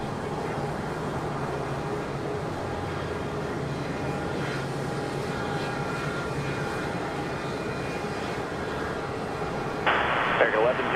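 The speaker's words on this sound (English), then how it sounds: "Next arrival is going to be American Airlines 1071 coming in from San Diego, an A321-200." An American Airlines Airbus A321-200 arriving at Charlotte Douglas airport on a windy day: a steady, moderately distant engine roar that holds throughout, with faint wind noise beneath and a brief burst of other noise near the end.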